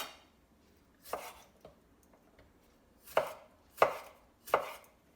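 A not-very-sharp kitchen knife chops tomato on a board in four separate firm thuds, spaced a second or two apart in an otherwise quiet room, with no voices.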